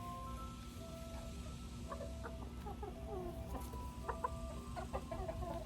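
Backyard urban homestead chickens cluck and murmur in scattered, quiet calls, with a rooster among the hens, over a steady low background hum.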